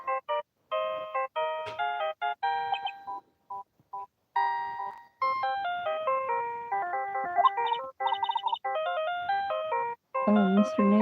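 Melodic electronic phone ringtone in the Ace Attorney video game, a bright chiming jingle of stepped tones repeating in short bursts for several seconds, loud and with no talking.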